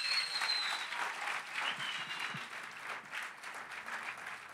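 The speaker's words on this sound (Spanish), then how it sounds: "Aplaude al Señor." A church congregation applauds steadily during a sermon, a dense wash of clapping that holds its level throughout.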